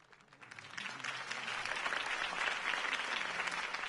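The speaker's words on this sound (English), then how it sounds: "could have heard that applause" Applause after a campaign speech for Harvey Dent, a crowd clapping that swells from light to full and steady, heard alone.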